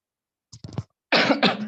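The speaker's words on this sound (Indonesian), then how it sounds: "Mohon maaf teman-teman, sedikit batuk ya." A short throat-clear is followed by one loud, harsh cough up close, with silence around it.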